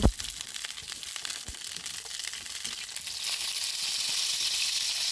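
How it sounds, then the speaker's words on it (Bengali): Pointed gourds (potol) fry in hot soybean oil, opening with a soft thump and then a hissing sizzle that grows steadier and slightly louder. "তেল গরম হয়ে আসলে একে একে সবগুলো পটল তেলের মধ্যে দিয়ে দিব।"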